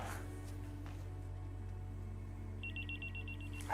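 A telephone rings with a quick, faint electronic trill near the end, over a low steady room hum.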